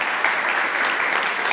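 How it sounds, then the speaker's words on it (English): A conference audience at a design leadership event applauds the organizers, a loud, even burst of many hands clapping at once without talk. "I would like to ask claps for them because they did it all."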